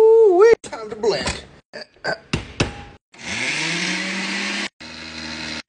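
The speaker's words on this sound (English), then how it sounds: "it's time to blend" Voices and short noises first, then a blender's loud steady whirring motor runs for a couple of seconds, stops briefly, and starts again.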